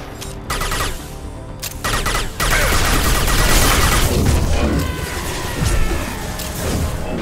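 Gunfire in Mass Effect 2 comes in bursts: a few sharp shots and short rattles, then sustained loud automatic fire with heavy impacts that runs on with little break.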